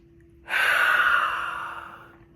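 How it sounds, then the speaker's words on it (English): A single deep inhale from a speaker addressing an audience, a loud breathy rush rising suddenly and tapering off over about two seconds, with no talk. "deep breath together"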